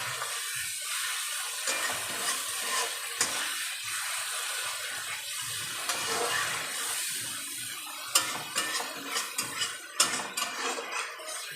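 Water poured into a pan of potatoes cooking in a home kitchen, a steady running wash with clinks of pots and utensils, brief louder knocks near the end.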